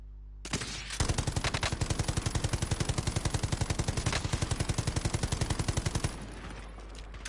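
Sustained automatic gunfire from the video game Call of Duty: Warzone, a loud, rapid, evenly spaced stream of shots lasting several seconds with a few heavier bangs mixed in.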